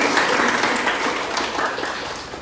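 Classroom of students breaking into applause, a dense burst of clapping from many hands held steady and then gradually easing off.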